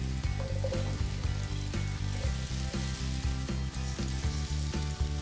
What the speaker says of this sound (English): I'm gonna add the asparagus now